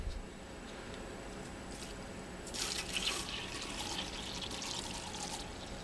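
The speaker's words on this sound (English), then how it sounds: "syringe full of hot water going into the cup." Hot water pushed from a syringe into a cup, a faint close trickle and splash lasting a few seconds with a slightly stronger burst of pouring partway through, heard alone in a quiet room.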